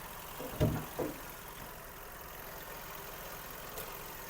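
A Skoda Octavia 1.6 MPI naturally aspirated petrol engine idles quietly with a steady low hum, after a couple of soft knocks near the start.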